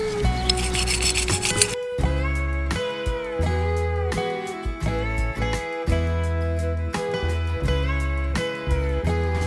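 Brush gently scrubbing old varnish off aluminum carburetor bodies from a barn-find Suzuki GT550, close, rhythmic scratchy strokes repeating in short bursts.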